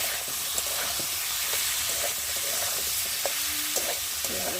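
Spices, chili powder, salt and chopped tomato sizzle and hiss steadily in a pan, with a few soft taps of stirring and no talk.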